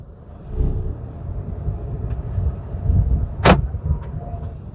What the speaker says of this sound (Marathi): आपण गाडीमध्ये बसलोय आणि गाडी आता आपण सुरू करतोय. गाडी सुरू झालेली आहे.